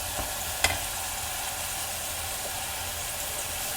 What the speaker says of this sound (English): I'm just gonna let the onions kind of sweat out a little bit